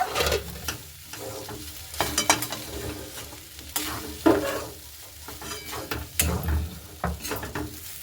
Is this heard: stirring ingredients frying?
yes